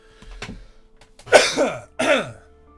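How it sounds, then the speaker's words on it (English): A few harsh coughs near the microphone, a faint one first and then two loud, raspy bursts with a short pause between. "Excuse me for the coughing, but I got sick again."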